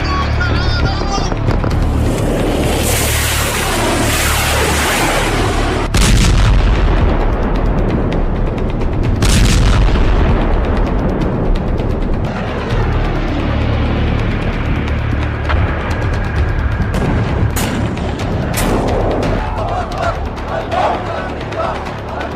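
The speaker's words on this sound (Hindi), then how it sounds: "तेल टैंकर में धमाका, हूथी का खूनी हमला।" An oil tanker explodes in a Houthi attack: loud rumbling blasts and roaring explosions with crackling bursts, sustained and chaotic, with sharp booms punctuating the noise.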